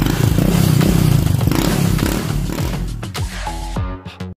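A stock Honda ADV 160 scooter engine runs steadily, loud and close, with a dense throbbing rumble that dies away at the end into a few clattering knocks.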